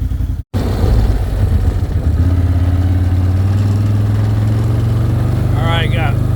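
Farm vehicle driving down to the gate on a Missouri farm, a steady mid-pitched engine drone that settles into a constant hum after a brief dropout, close and continuous with no talk.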